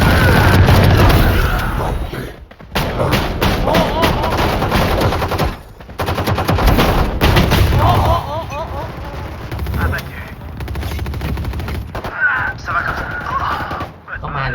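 Rapid gunfire in the tactical shooter Valorant: dense bursts of close-range shots crackle almost continuously, with brief gaps, under someone talking throughout.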